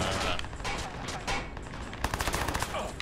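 Assault rifle gunfire in the video game Watch Dogs, loud rapid bursts and sharp repeated shots growing denser toward the end, close and dominant.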